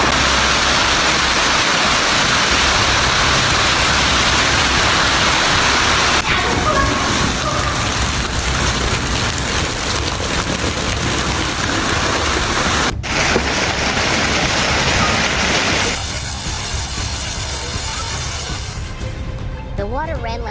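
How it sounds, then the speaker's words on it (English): Heavy torrent of water mixed with hail rushing through flooded streets past homes, businesses and cars, a loud, dense, continuous roar that carries on steadily with shifting intensity and eases slightly near the end. "A torrent of water mixed with hail swept through the area"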